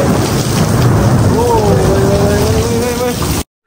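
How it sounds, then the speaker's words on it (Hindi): Heavy rain pours down in a street lane, heard from under a balcony overhang as a dense, loud hiss with a low thundery rumble beneath and a faint wavering voice, ending abruptly. "बारिश काफी तेज हो चुका है"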